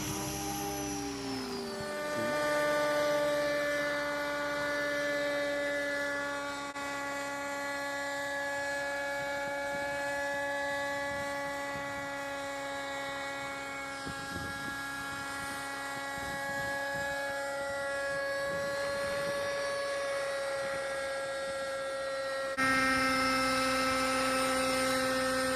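Electric radio-controlled model helicopter in the 550 to 600 size class whines at full throttle during a load test, a steady high-pitched motor and rotor tone with strong harmonics, close and sustained, rising slightly near the end.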